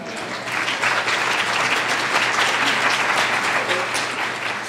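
An audience at a New York City public policy event breaks into a steady round of applause, dense clapping that swells quickly and holds for several seconds before starting to thin.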